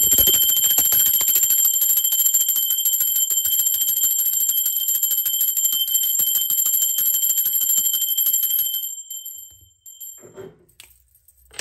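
A bell rings continuously with a bright sustained metallic tone for about nine seconds, then cuts off abruptly, leaving near silence with a few faint knocks and no talk.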